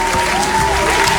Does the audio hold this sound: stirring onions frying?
no